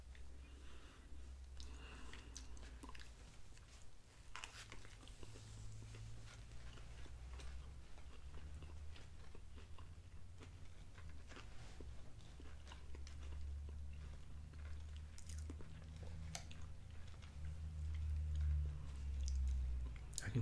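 Quiet, close chewing of a Wendy's Dave's Single burger without ketchup and mayo, with soft wet clicks and smacks over a low, steady background hum.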